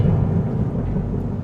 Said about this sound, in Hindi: अचानक तेज बारिश शुरू हो गई और बिजली ने जंगल को रोशन कर दिया